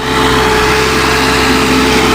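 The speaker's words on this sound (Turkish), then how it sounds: "traktör buradaki helodonun ağzına samanı itiyor. Helodondan makineye giriyor." A tractor works under load, pushing hay into the mouth of a hay baler, producing a loud, steady engine drone that holds unbroken throughout.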